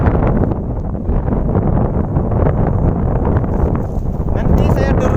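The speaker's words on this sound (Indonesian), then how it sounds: "Ngomong-ngomong anginnya kencang banget di sini, jadi suaraku mungkin gak begitu kedengaran." Strong wind buffets the microphone atop the peak of Mount Coppo Tille, a loud continuous rumbling roar with someone speaking partly masked underneath.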